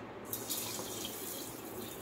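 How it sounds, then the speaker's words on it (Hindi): Milk is poured into a mango shake, giving a steady, close liquid rushing sound that holds without pause for the short stretch. "अब मैं इसमें थोड़ा सा दूध डालूंगा ताकि ये मिक्स होए पूरा।"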